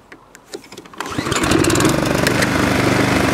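A new Toro Recycler lawn mower with no primer or choke starts after a few faint clicks, then its engine catches and runs loudly and steadily, close by.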